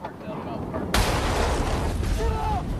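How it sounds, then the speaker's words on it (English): A roadside bomb explodes in Iraq: a sudden, loud blast bursts in about a second in, then gives way to a sustained, rumbling roar with faint voices in the background. "Explosions like this one happen with startling regularity in Iraq."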